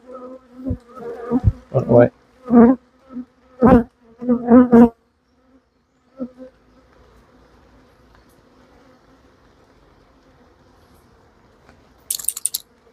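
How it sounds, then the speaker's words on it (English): Agitated honey bees buzz in bursts right at an opened hive on a rainy day, loud close drones that fade to a faint hum, with a brief spoken exclamation. "These bees are really not happy with the rain."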